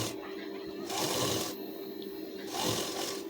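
A sewing machine stitches a blouse sleeve with a double seam, its motor whirring in two steady bursts separated by a short pause, close and fairly loud.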